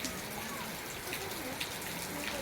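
Steady rain pattering on surfaces, a soft even hiss of falling drops with no voices.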